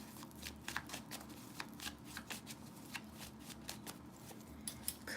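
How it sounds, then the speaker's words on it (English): Playing cards are shuffled quietly and repeatedly, with crisp riffling bursts in a steady rhythm and no talking. "But I'm shuffling cards."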